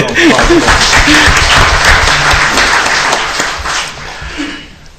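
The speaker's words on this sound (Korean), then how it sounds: "박수 한번 해줘." A church audience at a forum discussion breaks into loud, dense applause right away. It holds steady for about three seconds, then thins and fades out.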